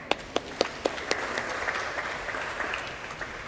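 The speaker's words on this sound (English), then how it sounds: "please give yourself a round of applause for that" Applause at a retirement celebration, opening with several sharp, distinct claps from nearby that soon blend into a steady wash of clapping from a seated audience.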